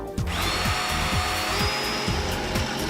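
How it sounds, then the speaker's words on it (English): A power drill bores mounting holes for the bracket of an LCN 9540 Senior Swing Door Operator, a steady high whine running throughout over a regular knocking pulse, loud and close. "Next, drill the holes."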